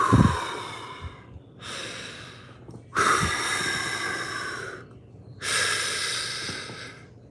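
A person breathes heavily in through the nose, four long, loud, airy inhalations separated by short pauses, close and alone without talk.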